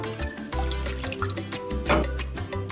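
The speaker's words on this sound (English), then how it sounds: "we're gonna be adding the coconut milk" Coconut milk poured into a small pot on the stove, a steady close liquid glug and trickle lasting a few seconds, with background music underneath.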